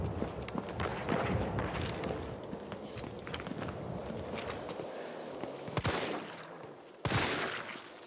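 Gunfire and close combat in Resident Evil 3, a dense busy stretch of game shots, impacts and running footsteps, ending in two loud isolated gunshots near the end.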